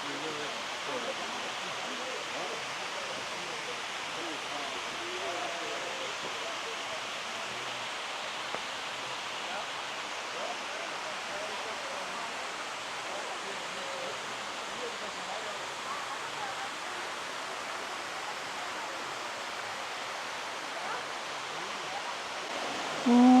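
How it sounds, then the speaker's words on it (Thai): Steady rushing water from the top tier of Bua Tong waterfall in a national park in Chiang Mai, Thailand, a soft, even hiss heard from above with no breaks and faint voices. "ได้ยินเสียงน้ำตกอะ่ะเดี๋ยวลองถ่ายจากข้างบนดู"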